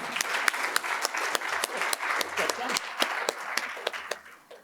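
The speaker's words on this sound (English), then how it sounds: "And can we please give them a round of applause?" An audience at a sustainable packaging panel gives a round of applause, with sharp individual claps close by and a moderate crowd, tapering off at the end.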